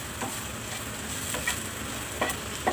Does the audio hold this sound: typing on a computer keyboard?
no